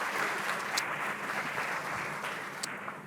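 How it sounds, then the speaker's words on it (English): An audience at a keynote talk gives a steady burst of applause, a dense wash of clapping that holds fairly level and loud throughout the short stretch. "give me a clap for that"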